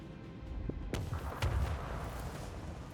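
A gunfire salvo from the Warhammer 40k: Rogue Trader video game, with a couple of sharp booming shots followed by rumbling echoes and lingering battle noise.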